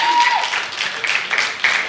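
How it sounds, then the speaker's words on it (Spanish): Church audience applauding a couple on their first wedding anniversary, scattered clapping that rises in uneven bursts, with voices and cheers mixed in over it. "Por favor, denles un aplauso a los dos."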